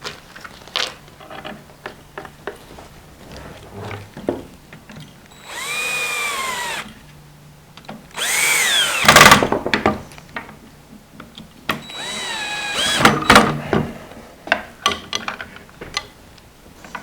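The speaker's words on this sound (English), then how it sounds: "I'm going to go ahead and put the frame screws back in first." A power drill drives frame screws into a Kromski harp loom in short, whining bursts that rise in pitch, with small clicks and handling taps between them, heard up close.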